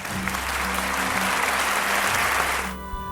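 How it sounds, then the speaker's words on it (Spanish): A school audience gives steady, dense applause for the first-year pupils at a Hogwarts-themed primary school event, and it fades out near the end. "para los que pido un aplauso."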